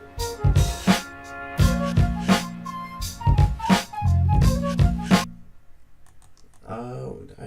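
A produced beat in which a single recorded strummed guitar chord rings out over rhythmic drums, then the beat drops away and faint trailing sounds remain.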